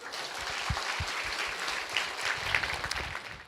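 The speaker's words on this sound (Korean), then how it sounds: "박수 한번 주세요." Lecture hall audience gives a short burst of applause, fairly loud and continuous clapping with a few heavier individual claps standing out near the front.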